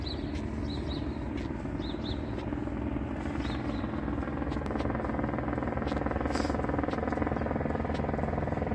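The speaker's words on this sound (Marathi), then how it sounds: "वरून हेलिकॉप्टर चाललेलं आहे." A helicopter passes overhead during a morning walk through a downtown street, its low rotor rumble fairly faint and steady, with scattered bird chirps above it.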